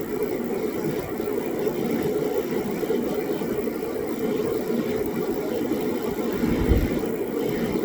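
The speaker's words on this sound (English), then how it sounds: "Once this thing is lit, it continues to burn, then we can adjust the temperature." A Mr. Heater 60,000 BTU propane heater burning steadily after being lit, giving a continuous low roar and whir at close range with no voices.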